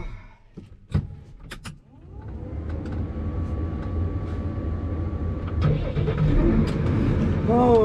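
A loader tractor engine starts after a few clicks and knocks, then settles into a rising, steady running rumble that grows louder toward the end, with no talk.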